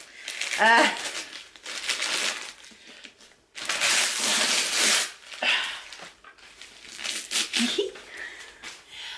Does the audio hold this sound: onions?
no